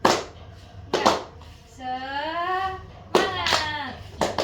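A school class does a rhythmic clapping ice breaker, sharp claps in quick bursts alternating with children and a teacher chanting together in a classroom.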